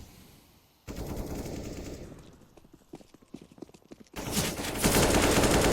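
Counter-Strike gunfire from a competitive match on the Nuke map, loud bursts of rapid shots in the opening second and again near the end, with quieter scattered in-game sounds and faint caster voices between.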